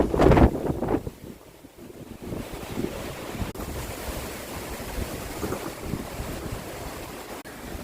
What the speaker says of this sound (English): 50-mile-an-hour gusts.